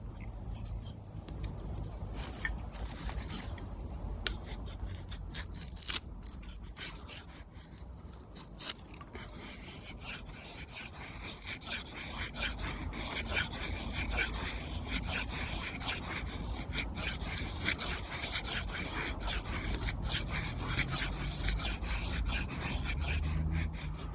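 An Opinel 8 knife with a factory or convex edge shaves feathersticks from wood, making repeated scraping, rasping strokes that run steadily for a long stretch at close range, with no talking.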